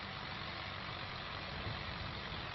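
A tractor engine idles in the video game Farming Simulator 25, a faint, steady low rumble that holds unchanged throughout with no voices.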